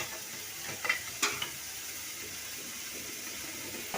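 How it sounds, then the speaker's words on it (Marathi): Hot water is poured into frying chicken in a pan for a spicy Kolhapuri chicken curry, giving a steady sizzle with stirring and a few sharp metallic clinks early on. "इकडे पाणी गरम झालेलं आहे, तर आपण हे चिकन मध्ये घालणार आहोत."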